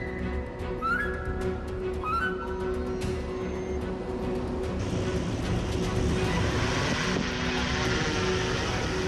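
A re-engineered drone climbs 1,000 meters to a summit on Minami Iwo To, giving a steady, loud propeller whine and rushing drone that thickens toward the end, with brief higher tonal chirps early on.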